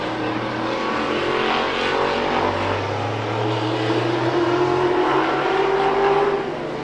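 Race cars roar down the back straight of an oval track at a Hobbyfest feature event, a dense steady engine drone that swells and shifts pitch as the pack passes, loud and continuous throughout.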